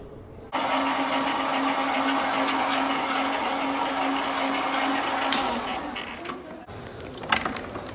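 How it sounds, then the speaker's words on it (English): Stone floor polishing machine working a powder-and-water paste into the stone, a steady loud motor whine with a hum and grinding wash, running for about five seconds before spinning down and leaving quieter scraping. "this is the final polishing of the stone"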